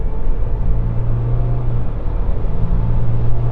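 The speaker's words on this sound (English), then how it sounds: "Now I'm going to launch this to see how quick it is from 0 to 60 miles an hour" A Volkswagen pickup truck launches from a standstill toward 60 mph, its engine giving a steady, loud low rumble and drone that holds without a clear rise in pitch, with no talk over it.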